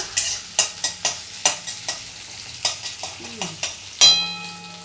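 Onion fries in a pan and is stirred with a utensil, giving a steady run of close scraping strokes in a fairly even rhythm over a soft sizzle, then one louder scrape near the end.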